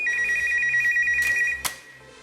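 A telephone rings in a radio studio during a call-in show: a steady electronic ringtone with rapid repeating pulses, then a short clatter as the handset is picked up.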